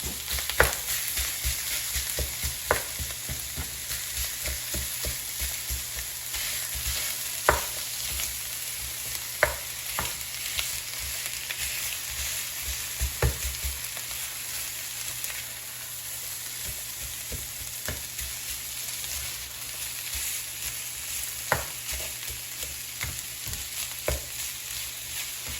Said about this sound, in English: now continue cooking and mixing every minute until the sausage is cooked through and the onion is tender